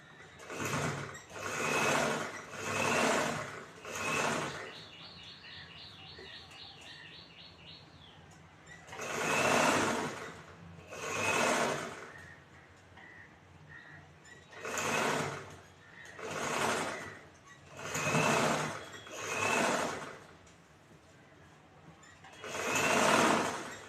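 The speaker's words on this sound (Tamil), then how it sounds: "இந்த பீஸ்க்கு மேலேயே ஓரமாக தையல் போடுறோம்" A sewing machine stitches along the edge of a blouse piece near the neckline, running in about nine short, loud whirring bursts with pauses between them. A faint high chirping sound is briefly heard partway through.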